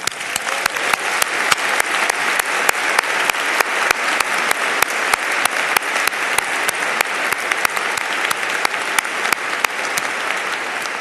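Steady, loud applause from a large audience at a 2018 Notre Dame graduate school commencement ceremony, dense clapping sustained throughout with no voices over it.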